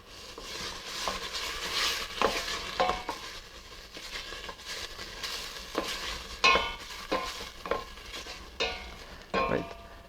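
Beetroot soup vegetables being stirred in a pan, soft scraping and clinking strokes of a spoon over a steady gentle sizzle, near and fairly quiet, with irregular bursts of movement.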